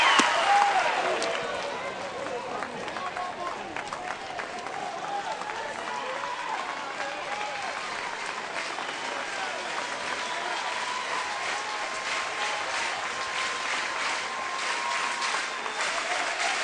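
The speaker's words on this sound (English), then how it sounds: "You see the fans just getting into it, cheering" Texas Longhorns fans cheer and applaud at a college baseball game against TCU, a steady wash of clapping and crowd roar that stays loud and dense throughout.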